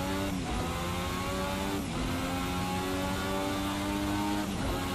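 A Formula 1986 V6 race car in a racing sim accelerates out of a slow corner, its engine loud and continuous, rising through the revs with brief dips at upshifts, with no talking over it.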